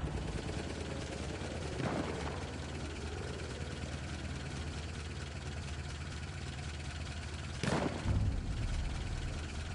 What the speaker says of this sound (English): there are planes flying all over the place in the skies